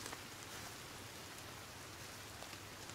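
Steady rain falls in the survival video game Sons of the Forest, a dense, even hiss of drops on surfaces lasting throughout with no voices.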